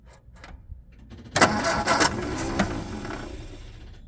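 A 1967 MGB GT with a slight fuel leak is cranked over after fuel pumping, giving a loud burst of cranking and catching at about a second and a half that settles into a rough idle, with no talk.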